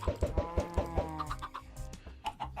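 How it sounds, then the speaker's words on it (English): Blocky Minecraft chickens cluck in a quick run of sharp, close calls, then give a few softer scattered clucks, with no talk. "Let's take a look at some chickens."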